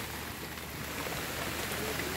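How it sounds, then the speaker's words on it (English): Rain falls steadily outdoors as a soft, even hiss, heard faintly and alone with no talk. "I hate this rain."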